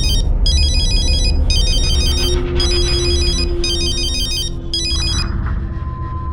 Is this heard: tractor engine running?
no